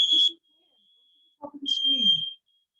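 A smoke alarm beeps in a home where someone is cooking for Thanksgiving, sounding two loud, steady high tones, the second under people talking.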